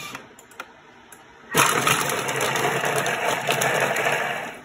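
A Thermomix chops onion and garlic for five seconds at speed 5, kicking in suddenly after a quiet moment with a loud, steady whirring blade roar and a rattle of pieces in the bowl, with no talk.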